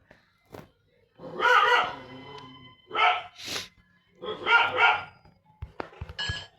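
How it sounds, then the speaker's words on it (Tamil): A household dog barks in separate loud bursts with short pauses between them, close to the recorder, alongside game sounds from a Granny 2 gameplay session. "நாய் குலைக்குதுன்னு பார்க்குறீங்களா? எங்கள் நாய் தான்."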